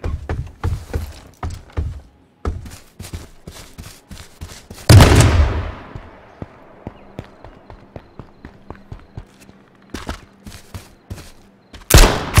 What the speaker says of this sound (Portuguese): nós escutamos um tiro até agora aqui